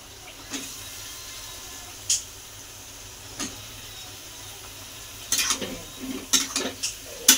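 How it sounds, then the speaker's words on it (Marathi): Eggplant being sautéed in a cooked spice paste for kharat vange: a low steady sizzle under sparse scraping stirs and clinks of a spoon against the pan, close up and quiet, with no talk. "वांगे पण आपण चांगले परतून घेऊ."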